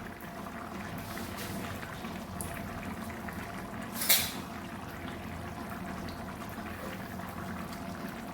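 Chicken simmering in a pot, a steady low bubbling and hiss of boiling liquid throughout, fairly quiet, with one brief clink partway through.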